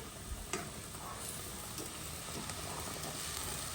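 Swordfish steak frying in a pan, a steady dense sizzle and crackle with a few brighter pops, close and continuous with no talking.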